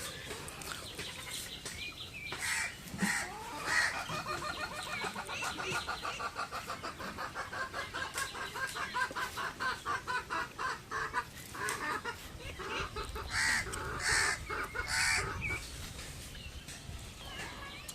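Ducklings and other poultry on a rural homestead, just up from the water and calling for food: a busy, continuous chorus of close peeping and clucking from many birds, with no talk.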